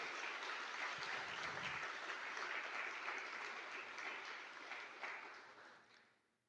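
Sustained applause from a church congregation during a Sunday worship service, dense steady clapping filling the room for about five seconds before fading out near the end.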